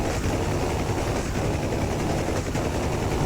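A UH-1 Huey's door guns fire in DCS World, a dense, continuous rattle of automatic bursts over loud helicopter rotor and engine noise, with no pauses across the stretch.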